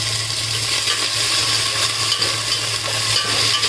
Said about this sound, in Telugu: ఇలా వేసుకొని కలుపుకోవాలి.